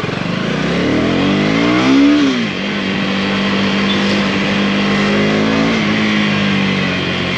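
A 2024 KTM Duke 250 motorcycle engine is ridden at high RPM, a loud, close, continuous engine drone that climbs in pitch, drops briefly, then holds steady.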